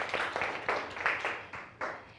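Children in a primary English classroom applaud a pupil briefly, a group clapping in an uneven burst of about seven soft claps that fade at the close.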